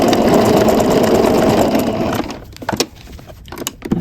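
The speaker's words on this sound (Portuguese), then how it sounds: "Aqui eu vou cortar e começo novamente a costura aqui." A sewing machine stitching fabric runs in a steady, loud whirring burst for about two seconds, then stops and gives way to handling clicks and rustles of cloth, close up with no talking.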